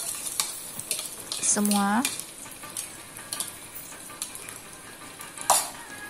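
Eggs sizzle in a hot wok and are stirred into scrambled eggs, a steady frying hiss with scraping stirs and a clink of the utensil, while someone talks briefly.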